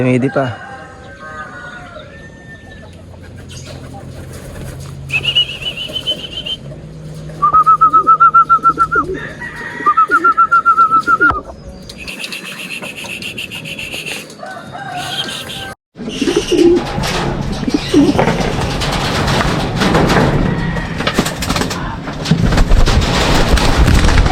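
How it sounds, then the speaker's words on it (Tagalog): Racing pigeons coo at the loft during a summer derby race, soft repeated coos with whistle-like tones mixed into busy background noise and voices. "Talagang kaliwat kanan, maghahatakan yan mga kalapatids."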